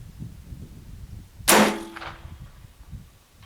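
A BinTac MCAR air rifle pellet strikes a steel kill plate at 300 yards with a single sharp, ringing clang that decays over about a second, alone over faint background hiss.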